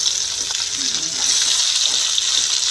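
Meat added to a hot pan for Filipino adobo, giving a continuous bright sizzle that stays fairly loud and steady at close range without talk.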